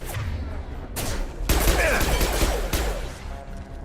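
Mass Effect 2 gunfire: loud, close bursts of rapid automatic shots over a couple of seconds, with sharp individual cracks before and after.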